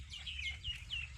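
Chickens cluck softly in a village, a few short descending calls in quick succession at a modest distance over low rumbling background noise.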